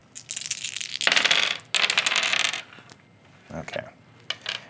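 Dice rattle and clatter across a tabletop in a Teenage Mutant Ninja Turtles board game, several bursts of tumbling plastic clicks in quick succession, loud and close.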